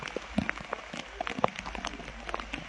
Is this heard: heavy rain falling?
yes